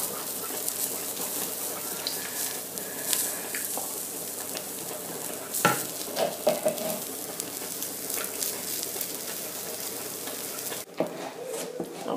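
Okra sauce simmering in a pot, a soft, steady bubbling sizzle with occasional stirring clanks and scrapes, close and moderately quiet throughout.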